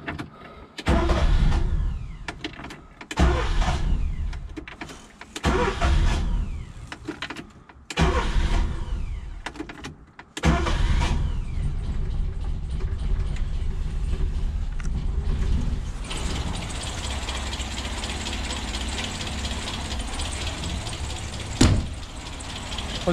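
A Renault 4L with hard starting, a suspected carburettor fault and a rich mixture, cranks in repeated bursts separated by pauses, then catches into a rough, loud, steady idle close by, with no talking.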